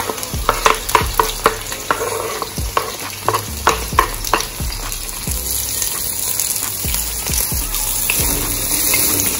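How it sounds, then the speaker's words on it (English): Seasoning stirred as it fries in hot coconut oil for Jamaican salt mackerel rundown: a steady loud sizzle with quick clattering spoon scrapes against the pot, close up and without speech. "So now we stir for this because we don't want our seasoning burn up."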